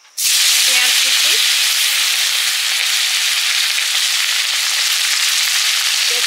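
Chopped onion hits hot oil in a pan with a sudden loud sizzle that settles into a steady, dense hiss lasting several seconds, close and continuous, with no speech.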